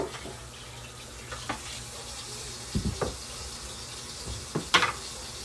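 A kitchen tap runs gently while food is rinsed under it, a soft continuous water hiss broken by a few splashes and clunks, close and moderately quiet.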